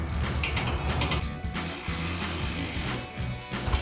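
Ratchet wrench tightening the rear shock mount bolts on a Ford F-150, a close, rapid series of clicking ratchet strokes in short bursts with brief pauses between them, no voices.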